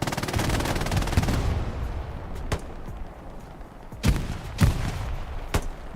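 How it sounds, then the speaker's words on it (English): Sustained rapid machine gun fire from a World War II battle in Hell Let Loose on the Sainte-Marie map, dense and loud at first, then thinning to scattered sharp gunshots with quieter gaps between them. "AA Network has just a shit ton of MG fire"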